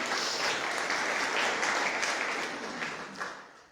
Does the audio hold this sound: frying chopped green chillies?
no